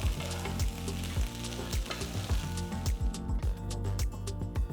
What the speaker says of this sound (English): Keeping the flame on high, just stir fry them for about 5 minutes.